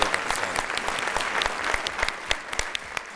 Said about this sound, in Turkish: Bence babayla çocukları alkışlayalım.